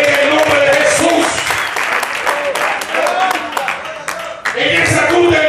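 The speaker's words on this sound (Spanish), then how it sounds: "los acelerados le aplaudan al Rey de Reyes y Señor de Señores" Sustained applause from a church congregation fills the space, with voices shouting and talking loudly over the clapping throughout.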